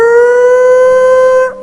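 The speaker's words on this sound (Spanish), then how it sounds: "La sirena de la yarda sonando." A prison yard alarm siren wails in a loud, steady tone with strong harmonics, holding its pitch before cutting off abruptly near the end.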